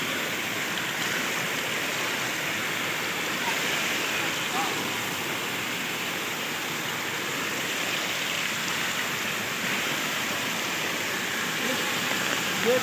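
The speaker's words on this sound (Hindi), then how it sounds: "पानी ऊपर से बह रहा है" Floodwater pours continuously over a blocked road drain during heavy rain in a village, a dense, steady rushing wash heard close by with no break.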